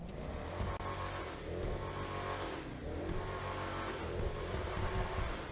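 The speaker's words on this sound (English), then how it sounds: "The Rebla GTS is actually one of the better sounding SUVs in the entire game" An Ubermacht Rebla GTS SUV engine in GTA Online revs loudly and continuously, the pitch rising and falling through several pulls, close and alone with no talking.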